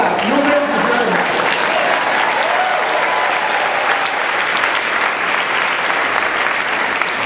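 An audience claps steadily and loudly for several seconds, dense sustained applause filling the room, with a voice briefly heard at the start.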